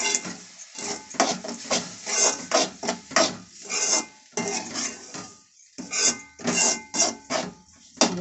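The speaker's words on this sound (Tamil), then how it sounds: "நல்லா மிக்ஸ் பண்ணி விட்டுறணும்" Rava (semolina) batter stirred in a vessel as water is added bit by bit, giving a steady run of close, rhythmic scraping and clinking strokes with short pauses, no talking.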